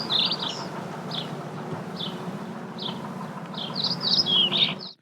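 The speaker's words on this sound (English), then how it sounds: "Now, the correct sound of birds." Short, bright bird chirps come in scattered bursts, quicker and clustered toward the end, over a constant low buzzing hum.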